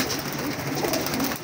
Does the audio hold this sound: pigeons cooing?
yes